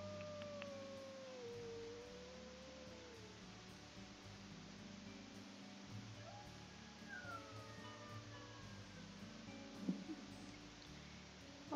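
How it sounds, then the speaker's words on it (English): Wolf pups of the Goldstone Pack howling in a wolf game, thin wavering howls rising and falling over quiet ambient wind, fairly faint and spread across the stretch with brief gaps. "If the pups howl that night."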